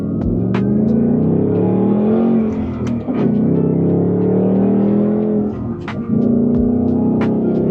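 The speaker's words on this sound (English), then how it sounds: "you get to watch me go through the gears" A manual Ford Mustang accelerates hard through the gears, its loud engine note climbing in pitch, dropping briefly at each of two shifts, then rising again, close and continuous.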